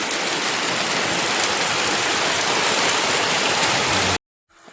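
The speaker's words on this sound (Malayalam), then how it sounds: "വെളിയിലോട്ട് നോക്കിയപ്പോൾ നല്ല മഴ കേട്ടോ" Heavy rain pours down in a loud, dense, unbroken hiss, then cuts off suddenly near the end.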